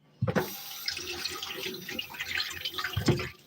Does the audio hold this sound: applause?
no